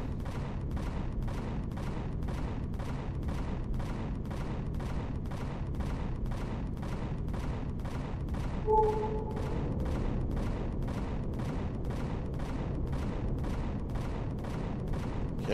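Ship weapons in the space game Empyrion fire in a steady, rapid rhythm of evenly spaced bursts throughout, with a short electronic tone briefly sounding partway through.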